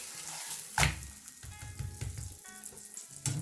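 An egg paratha with onion, just flipped, fries in a pan with a soft continuous sizzle and a couple of sharper bursts as it shifts, heard up close with no voices.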